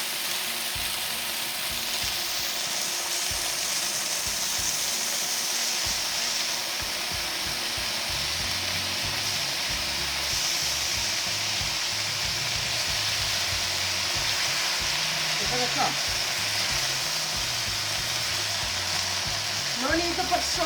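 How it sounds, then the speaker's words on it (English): A chicken and vegetable stir fry sizzles steadily in the pan after soy sauce is poured in, a constant hiss with a few light clinks of stirring near the end. "I'm going to add an additional bit of soy sauce"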